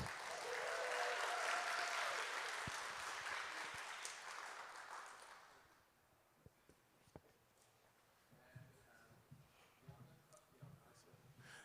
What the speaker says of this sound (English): round of applause for everybody as they come up here